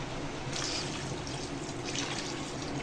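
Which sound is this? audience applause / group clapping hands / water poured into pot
water poured into pot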